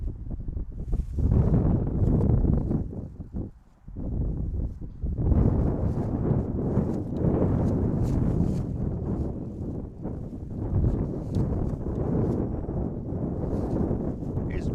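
Steady, blustery wind roars across an open baseball field with few trees, a broad rushing noise that gusts and dips briefly before building again.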